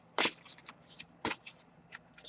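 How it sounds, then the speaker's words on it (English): A deck of oracle tarot cards being shuffled up close, two sharp riffling bursts followed by lighter flicks and soft scrapes of card against card. "as I shuffle the deck"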